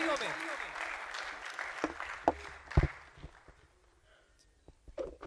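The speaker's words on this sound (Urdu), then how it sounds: "تو آپ بھرپور تالیوں سے استقبال کریں گے ہماری مہمان کا محترمہ عابدہ غنی" Audience applause greeting a guest named Abida Ghani onto the stage at a Pakistani literary celebration, a broad burst of clapping that thins out and fades over several seconds, with a few louder sharp claps and a voice over it.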